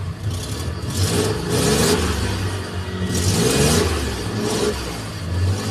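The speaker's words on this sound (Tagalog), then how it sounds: "Ito po yung nangyayari pag may problema po ang pan belt natin." A multicab 6-valve engine runs with a faulty alternator fan belt, giving a continuous close engine drone with rising and falling revs and a whirring, clattering noise over it.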